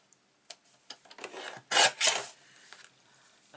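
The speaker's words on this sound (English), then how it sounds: "I'm going to trim a little slither off that." A blade trims a thin sliver off a sheet of card at close range, giving soft scraping rasps with a louder swipe in the middle.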